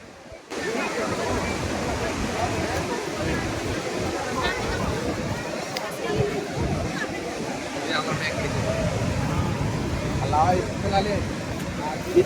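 Sivasamudram waterfall in heavy flood roars as a loud, steady, dense rush of falling water, continuous and close throughout, with faint talk mixed beneath the torrent.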